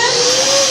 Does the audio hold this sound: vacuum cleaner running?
yes